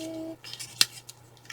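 A pair of scissors gives one short, crisp snip while trimming paper flowers, quiet and close, with a faint hum in the background.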